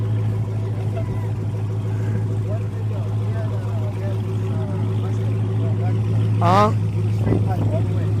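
Idling exhaust of a Dodge Challenger Hellcat with its mid muffler in place, a steady low drone running throughout, with brief talk near the end.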